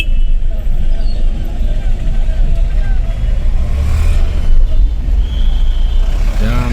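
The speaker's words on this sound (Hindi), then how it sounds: "Traffic jam." Congested traffic near Adabari bus stand in Guwahati, with buses, trucks and cars rumbling close by, scattered horn toots and air-brake hisses over a dense low drone, and people talking in the background.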